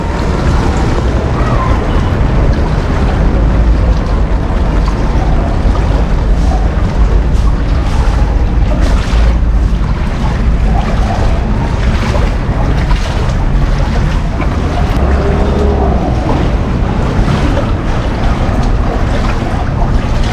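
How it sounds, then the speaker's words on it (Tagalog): Heavy rain pouring onto a flooded street in Abad Santos during a low-pressure storm, a loud, unbroken roar of water and wind with no pauses. "nagsimula na naman yung ulan"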